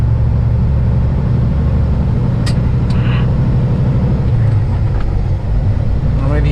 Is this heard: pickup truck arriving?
yes